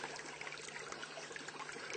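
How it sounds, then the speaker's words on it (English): A small backyard brook trickles and burbles softly over stones, a faint, continuous watery babble heard alone without talk. "I found a perfect little brook to sit by."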